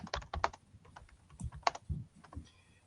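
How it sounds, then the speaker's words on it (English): Quick bursts of clicky keystrokes on a computer keyboard while typing a chat message, irregular and close-up, with brief pauses between clusters and no talking. "I'm just typing in the chat here."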